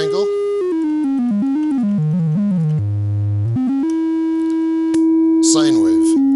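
A Micromac synthesizer oscillator on a triangle waveform produces a loud, mellow, flute-like tone. It steps down and up through a series of pitches before holding a long note, with a brief noisy burst near the end.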